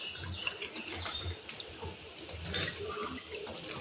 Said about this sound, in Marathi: इथे मी ताजी अशी अर्धा किलो भेंडी घेतली आहे। ती आता आपण स्वच्छ धुवून घेऊया।